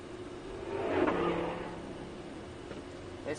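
A Lamborghini LP560 accelerates on the Circuit de Folembray during a driving course, its engine note swelling to a loud peak around the first second and then easing back into a steady drone.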